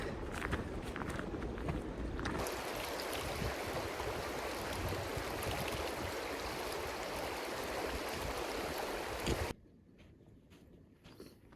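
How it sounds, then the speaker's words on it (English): Mountain water rushing in Peyto Creek, a steady broadband roar filling the scene for most of the stretch before cutting off abruptly near the end, with no talking over it. "Lots of water flowing right now, and it's freezing."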